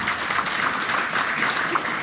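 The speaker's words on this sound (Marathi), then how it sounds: "त्या प्रशासनासाठी सगळ्यांनी जोरदार टाळ्या वाजवा" Loud, dense applause from a large crowd at a public government event, clapping for the local administration, continuous and close throughout.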